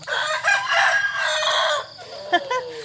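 A rooster crows loudly and close by in one long drawn-out call, followed by a few shorter clucks.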